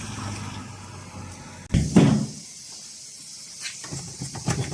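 A Porta Potti 365 portable toilet at a campsite is flushed: a sharp click, then a brief rushing gush of water that quickly fades, close and moderately loud, with faint voices behind.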